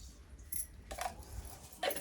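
Quiet, sharp crackling pops of mustard seeds in hot oil, in a few short bursts with brief gaps between them.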